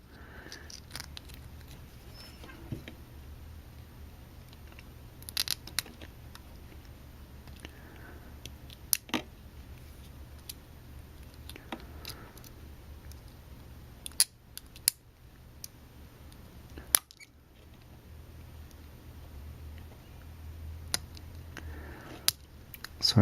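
Resin figure parts are snipped apart by hand, producing sparse, sharp clicks and snaps scattered irregularly over a low steady background hum, close and fairly quiet.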